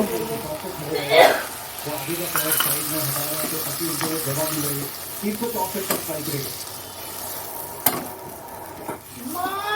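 Poppy seed and mustard paste goes into a hot pan, giving a soft, continuous sizzle with a few stirring scrapes, heard under someone talking at close range.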